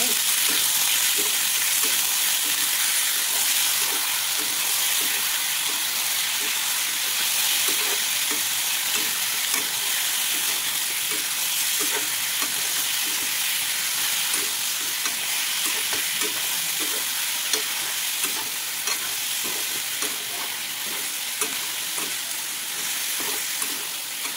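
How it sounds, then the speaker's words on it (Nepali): Chicken frying in a pan and being stirred, a continuous sizzle with repeated scraping strokes of the spoon, close and steady throughout with no talk. "यसलाई पनि हामीले 10-15 मिनटसम्म यसलाई चाहिँ भुट्छौँ हामीले एकछिन।"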